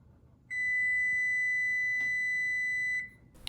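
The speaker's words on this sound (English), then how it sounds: "When the timer rings, I will turn the temperature down to 375." A kitchen oven timer goes off during popover baking with one steady high electronic beep tone held for about two and a half seconds, loud and close over faint room noise, with a soft tap partway through.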